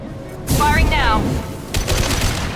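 Gunfire from the video game Mass Effect 2 crackles in a rapid burst late in the moment, following a spoken line, moderately loud against a steady background rumble.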